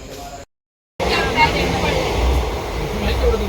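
Train travel from Lonavala toward Hubli: a steady broadband rumble of a moving rail carriage, with voices talking over it, interrupted once by a brief cutout before the continuous running noise resumes.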